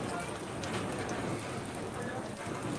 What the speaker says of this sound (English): All right, I'm getting the rain.